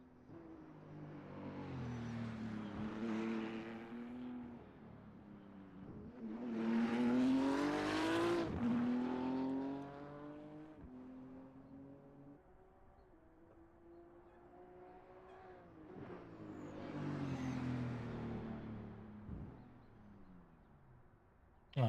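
Race cars crossing the line at the end of an NLS 3-hour race pass one after another, engines rising and falling in three faint, distant sweeps, with no talk.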